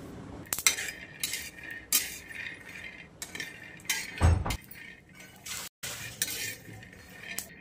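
Green chillies pounded for a Shravan Monday khichdi with soaked ingredients and potatoes, giving a series of sharp, close metallic clinks and knocks in an irregular rhythm, with one heavier thud partway through.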